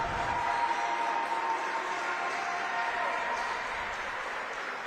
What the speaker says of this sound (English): Big cheer from the bench.